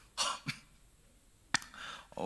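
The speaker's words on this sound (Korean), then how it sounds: "지금 기침을 너무 하고 싶은데" A few sharp coughs and throat-clearing bursts, close and fairly loud, separated by brief quiet gaps.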